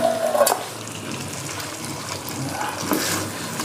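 Paprika and cooked spice paste stir-fry in a pan with a steady moderate sizzle, joined by scraping and clattering from stirring and pieces being tipped in.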